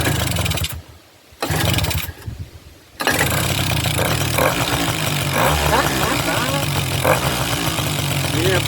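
Small Suzuki LT50 quad engine, left sitting outside for years, sputters and cuts out twice, then catches and settles into a steady, close buzzing idle that runs on alone.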